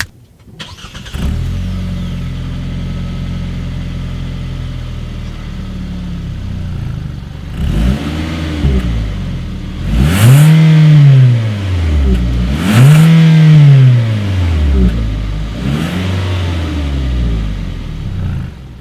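A 2019 MG6 engine idles, then revs hard several times through its single chrome-tipped exhaust, each rise and fall loud and close, settling back to a rumble.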